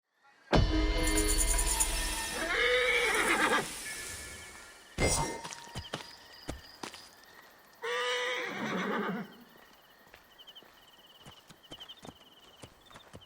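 Horse sounds from the video game Assassin's Creed Odyssey: a loud whinny plays alone, then hooves clop, and a second neigh follows. Scattered footstep-like taps fill the gaps between them.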